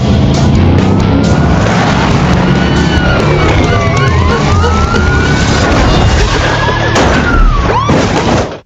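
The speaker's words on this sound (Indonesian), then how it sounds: "Setelah dua mobil polisi yang mengejar Eddie tumbang, Perm terus memburu Eddie sampai ke lintasan balap" Police cars with wailing sirens chase through traffic in a thriller film, the sirens sweeping up and down over steady engine roar and rumbling vehicles, loud and close throughout with a sharp sweep near the end.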